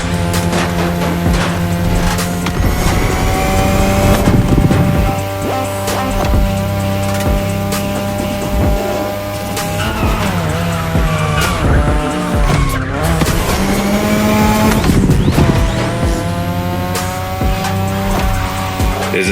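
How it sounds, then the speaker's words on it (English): A 2002 third-generation Mazda RX7 with a rotary engine races in The Crew Motorfest, its loud, high-revving engine droning through gear changes while tires squeal and skid at speed. "Tonight your ride is a 3rd Gen 2002 Mazda RX7. Lightweight, compact, a sick rotary engine, and one hell of a look."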